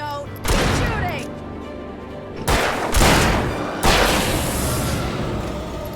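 Gunfire in Alan Wake Remastered, three loud separate blasts each trailing into a long ringing decay, with shouted voices between the shots.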